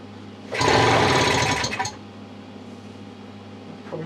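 A British Seagull two-stroke outboard engine fires in a loud, rattling burst of just over a second, then drops back to a low, steady hum.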